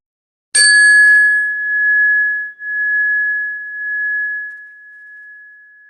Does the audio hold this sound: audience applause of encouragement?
no